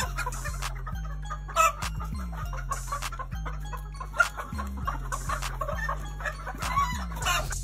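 Chickens cluck repeatedly in short, clustered bursts close by, over a steady low hum, with occasional louder squawks and no talking.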